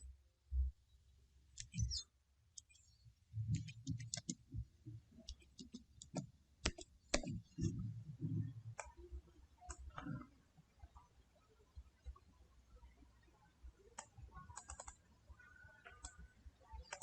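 Rapid, irregular keystroke clicks on a computer keyboard as a name is typed into an MS Word document, close and fairly quiet, in bursts with short pauses and a faint voice at times.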